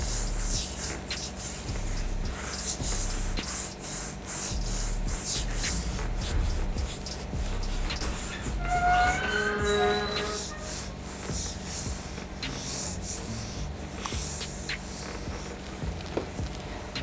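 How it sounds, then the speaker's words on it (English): Hands being scrubbed with a hand scrub in gentle circular motions, a close, soft, continuous rubbing and swishing texture with a brief squeaky passage midway, heard alone. "I'm just scrubbing in gentle circular motion."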